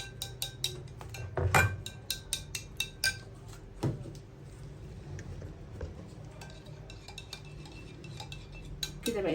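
Two tubs of yogurt with a little water are whisked in a bowl with a utensil, producing quick bursts of clinking and tapping against the dish, then lighter intermittent clicks.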